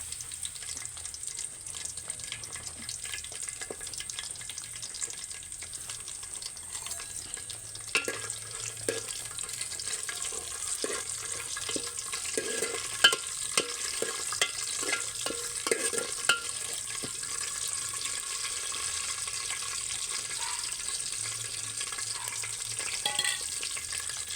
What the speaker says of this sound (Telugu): ఆయిల్ హీట్ అయింది ఫ్రెండ్స్ మసాలా దీంట్లో వేస్తున్నాను తర్వాత బిర్యానీ ఆకు తర్వాత పచ్చిమిరపకాయలు